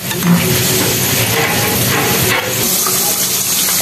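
Chicken balls deep-frying in hot oil are stirred and turned, making a loud continuous sizzling hiss with bubbling and scraping movement, briefly dipping midway before resuming.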